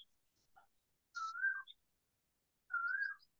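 A bird calls faintly in the background of a quiet room: two short, clear whistled phrases a little over a second apart, with no talking over them.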